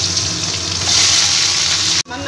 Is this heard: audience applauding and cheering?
no